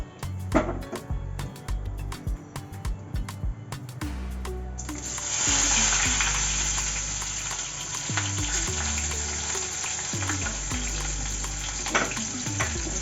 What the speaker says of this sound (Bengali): পেঁয়াজগুলো আমাকে দেখতে হবে যাতে ভালোভাবে ভাজা হয় আর যাতে ব্রাউন কালারটা আসে